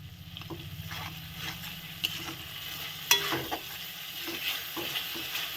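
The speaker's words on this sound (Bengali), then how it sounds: "দিয়ে এটাকে নেড়ে নিব।" Stirring and frying in a pan with salt and turmeric powder, for moong kooash, giving a steady low sizzle with scattered scraping clicks of a spoon, close and moderate, with no talk.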